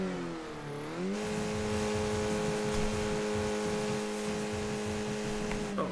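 A Skip Barber race car engine in a racing video game idles, then revs up and holds a steady droning tone, loud and continuous with no talk.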